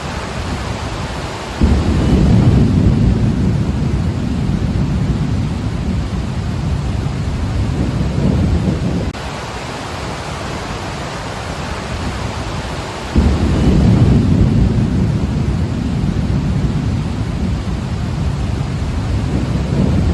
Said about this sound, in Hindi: मैं आपको ज़रा मुंबई के चंद क्लिप दिखाने जा रहा हूँ कि वहाँ पर इस सिस्टम के ज़रिए असर जो तूफ़ानी बारिशें हो रही हैं